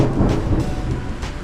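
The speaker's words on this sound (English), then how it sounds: "it's raining outside and there's also a thunder." Heavy rain hisses steadily outdoors during a thunderstorm while a deep roll of thunder rumbles loudly underneath, brief and continuous.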